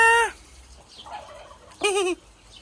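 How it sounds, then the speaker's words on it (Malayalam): A turkey gobbles in two loud, harmonic bursts, one at the start and another near the end, with faint background noise between them. "Turkey Turkey Turkey"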